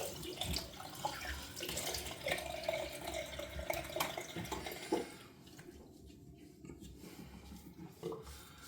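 Water splashing and running in a sink as a face is rinsed after a wet shave, a steady close wash for about five seconds that then thins to quieter drips and light trickling.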